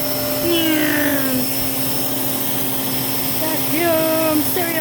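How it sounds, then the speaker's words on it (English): A household vacuum cleaner with a big blue hose runs with a steady, loud whine and hum, its pitch wavering briefly as it moves; a voice is faintly present underneath. "I'm vacuuming for Oliver."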